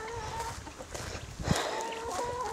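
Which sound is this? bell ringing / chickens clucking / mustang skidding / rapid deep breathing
chickens clucking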